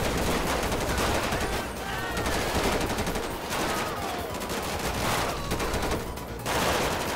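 Dense, continuous gunfire rattles through a shootout in GTA 5 during a police SWAT mod mission, with rapid bursts and overlapping shots filling the whole stretch without letup.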